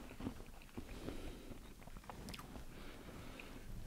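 Crunchy Smarties, a sweet tart candy from an MRE, are chewed close to the mic in quiet, irregular crunching bites that are faint and unaccompanied.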